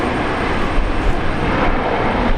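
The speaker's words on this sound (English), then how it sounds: "737 MAX 8" A Boeing 737 MAX 8 airliner arriving from Sydney at Brisbane Airport, a brief, loud and steady jet engine rumble with a slight fluttering texture.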